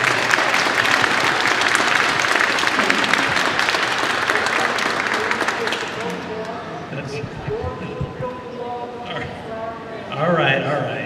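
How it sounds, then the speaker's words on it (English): Audience applause for candidates at a Lewisville city council and mayoral forum, a dense, steady clapping that fills the room for about six seconds before thinning out as murmuring voices take over. "Let's give them all a round of applause."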